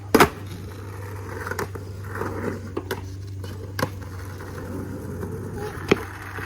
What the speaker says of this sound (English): So check out this kickflip.